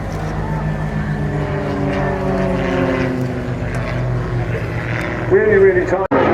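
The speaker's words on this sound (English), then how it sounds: "one is actually an extra 300 NG and the other is a CAP 232 aircraft" Extra 300 NG and CAP 232 aerobatic aircraft performing manoeuvres at an air show, their propeller engines droning steadily and rising in pitch under continuous commentary.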